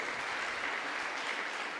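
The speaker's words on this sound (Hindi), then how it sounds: "जोरदार ताली बजाएंगे यीशु की महिमा के लिए।" Church congregation applauding during a testimony service: a short, steady wash of many hands clapping, moderately distant and continuous.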